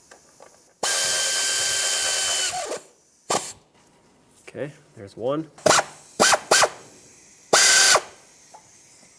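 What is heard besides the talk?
tightening timing cover bolts on a Lexus ES 300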